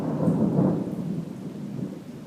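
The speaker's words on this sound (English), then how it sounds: "I'm in the middle of a lightning storm over here in Riga" Deep rolling thunder rumbles through a late-night lightning storm in Riga, a loud sustained low roar that swells and slowly fades over a wash of rain.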